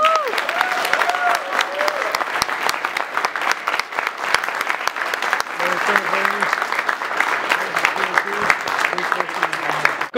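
A convention audience applauds a film panel at the end of its session, the dense clapping running steadily throughout while voices talk and call out over it.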